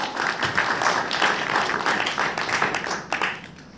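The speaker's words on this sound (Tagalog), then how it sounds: "Palakpakan natin muna ang Panginoon, yung malakas na palakpak" Loud applause from a church congregation at a prayer service, dense steady clapping sustained throughout and tapering slightly at the end.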